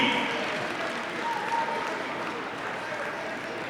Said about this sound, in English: A round of applause, please, for Joel and Jose Maximo, the SAT.